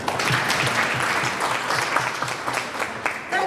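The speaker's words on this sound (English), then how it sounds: "can we clap for them?" Sustained audience applause fills a graduation ceremony for a women's business incubation project, steady dense clapping from a crowd throughout, fairly close and loud.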